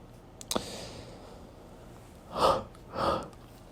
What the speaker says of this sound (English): course, another yawn.